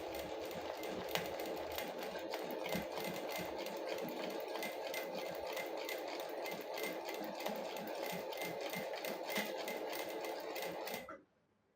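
A sewing machine runs continuously for free-motion quilting of wavy line stitches, a fast, steady mechanical whirr and needle rattle at close range that stops abruptly near the end.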